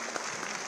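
Applause rises in a short, dense patter of clapping hands, steady and moderately loud, with no one speaking over it, welcoming a minister at a National Youth Day event.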